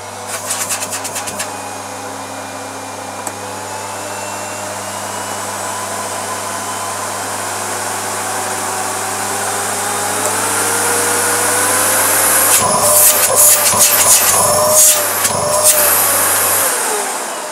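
A Miele Complete C2 Cat & Dog cylinder vacuum cleaner rated at 1200 watts runs loudly and steadily, its airy roar with a rising whine building slightly over time, with some clatter and handling noise later on.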